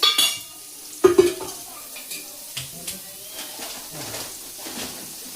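Brief frying in hot oil in a pan, soft sizzling under clattering utensil and pan knocks, with a sharp metallic clang near the start and a voice speaking in the background.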